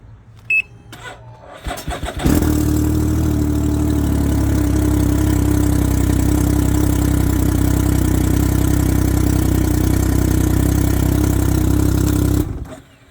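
A Can-Am Ryker fitted with a new battery cranks briefly and catches straight away, then settles into a loud, steady idle that runs for about ten seconds before cutting off.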